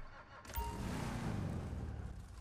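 Declasse Tulip muscle car engine in GTA 5 Online, a steady low rumble that swells after a quiet start and holds close and loud on its own.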